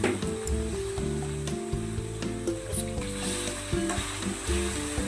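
Ginger and garlic fry in a pan, a close, steady sizzle running throughout with soft rubbing stirs, moderately quiet and free of talk.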